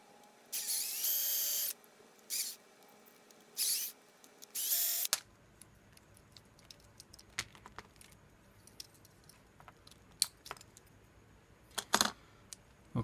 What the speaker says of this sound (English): So I'm gonna drill this one apart and take the wheels off.